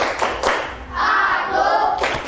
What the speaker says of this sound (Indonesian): Ayo, tepuk konsentrasi.